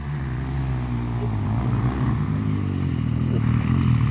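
Motorcycle engine at a practice track, throttle twisted repeatedly so the revs rise and fall steadily, loud and continuous with mechanical clatter.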